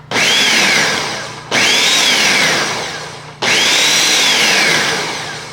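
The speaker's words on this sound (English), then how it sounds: "this is the blender that I always recommend" A Ninja blender pulses soup ingredients in three loud bursts, each starting abruptly with a whirring motor whine that rises and sags as the contents churn, then cuts off before the next pulse.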